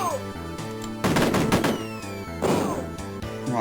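Gunfire and grenade blasts in an Amiga war video game, where the player carries bazookas and grenades: two loud bursts of shooting and explosions punch through a looping chiptune soundtrack, the first longer than the second.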